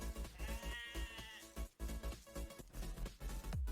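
Sheep bleating in the strategy game Age of Empires II, several wavering bleats overlapping against soft background game sounds, moderately close and fairly quiet, with no talk.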